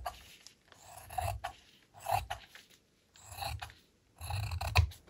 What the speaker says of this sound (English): First, I cut myself a piece of fabric that is smaller than my laminating sheet. As you can see, I have to trim this one.